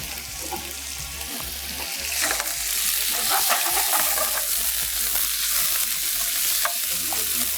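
Ingredients for Thai fried rice sauté in a pan while being stirred, a loud continuous sizzle with scraping stir strokes that grows slightly fuller partway through, and no voices over it.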